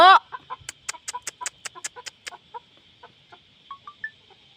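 Chickens cluck in a quick series of sharp, close calls as two cats harass them, then slower scattered clucks trailing off, with a steady faint hum behind.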